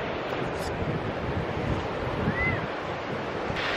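Ocean surf at a beach near Margaret River, Western Australia, as a steady broadband wash of waves mixed with wind buffeting the microphone, with no distinct individual breaks.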